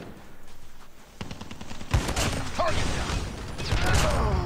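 A legendary shotgun firing in a mobile shooter game, a burst of sharp gunshots with mechanical clicks, quiet at first and then louder, close-up bangs.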